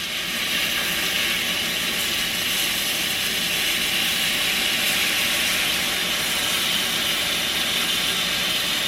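Beef broth poured into a hot pan of pan-fried pork chops with caramelized onions, a steady, even hiss and bubbling sizzle lasting throughout without pause.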